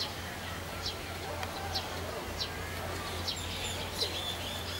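Several short, shrill parrot squawks repeat at irregular intervals over a low steady hum, a little distant, on hotel grounds in Pattaya, Thailand.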